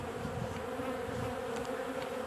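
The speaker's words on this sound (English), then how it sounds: "that's all our beehives" Honeybees buzz around their hives in a dense, steady drone of many insects close by, with a few louder passes as single bees fly near, and no one speaks.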